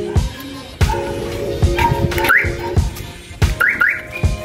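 A newly installed alarm on a Nissan NV350 van sounds loud and close, with repeated chirps and rising siren-like sweeps cycling over several seconds.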